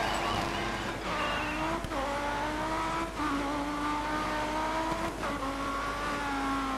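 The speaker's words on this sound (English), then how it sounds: "Listen to that engine." Audi Quattro rally car engine in the racing game Dirt 3, revving hard through repeated rising gear pulls with brief dips at each shift, loud and continuous throughout.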